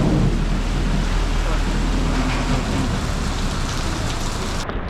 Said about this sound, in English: So we have rain.